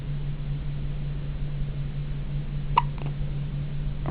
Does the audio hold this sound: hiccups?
yes